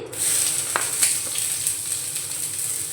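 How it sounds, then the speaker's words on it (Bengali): Chopped onion sizzles and fries in about a spoonful of hot white oil in a wok, a steady loud hiss with occasional crackles and a light stir partway through, no voices. "কড়াইয়ের মধ্যে এখন দিয়ে দেব পেঁয়াজের কুচি"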